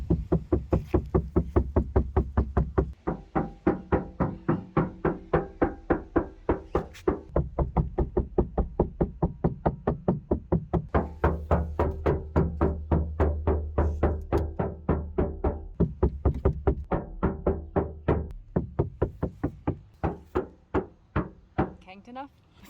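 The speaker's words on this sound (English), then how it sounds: "it sounds like you're knocking really hard" Hard knocking on a door: a long, steady run of loud, rapid blows, close and forceful, continuing for over twenty seconds with only brief pauses and a slight slackening near the end.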